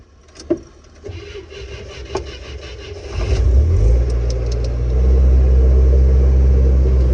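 A restored 1975 International Harvester Scout II on its first shakedown run: a few clicks and knocks, then the engine fires up around midway and settles into a loud, deep, steady rumble with rising revs.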